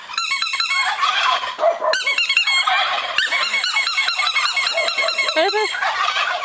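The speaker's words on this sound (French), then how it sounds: "Mélanie, quand elle fait le klaxon, les dindons ils répondent en même temps." Turkeys gobble in a loud, dense chorus of repeated bursts, answering a horn on a muddy cycling route in Yunnan, China, the calls overlapping continuously up close with brief pauses.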